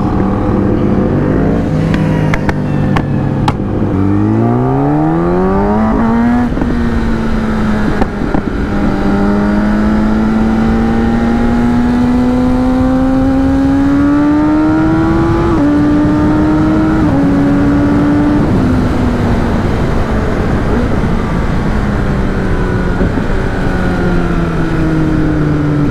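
A Kawasaki Ninja ZX10R motorcycle accelerates hard through the gears, its engine note climbing in pitch with each gear, then cruising at a high, steady whine with wind rush, close and loud.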